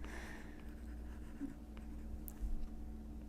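A stylus writes letters on a tablet screen for a digital planner, giving soft, faint scratching and light taps over a quiet room hum, with no talking.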